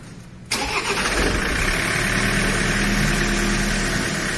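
A car engine cranks and catches about half a second in, then settles into a steady, loud idle with a constant low rumble and mechanical vibration to the end.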